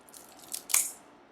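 Clean scissors snip fresh lemongrass stalks into small pieces, giving two short, crisp cuts close by in a quiet room, the second one louder.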